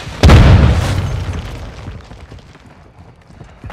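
A frag grenade detonates in Call of Duty, a single loud, close boom with a sharp onset that rolls off into a lingering rumble and fading debris.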